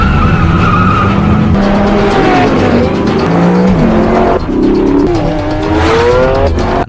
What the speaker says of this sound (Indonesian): terjadilah aksi kejar-kejaran di jalanan